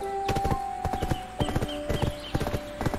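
A horse in the Black Desert Online video game trots along, its hooves clip-clopping in a quick steady rhythm, close and clear over a faint background tone.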